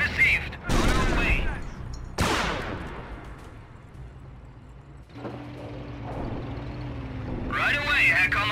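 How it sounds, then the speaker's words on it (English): Gunfire in a World War II strategy video game, with loud bursts of shots and explosive blasts at the start, then a quieter rumbling battlefield. Voiced unit lines and shouting are heard throughout. "They're shooting at us! Shoot back, damn you!"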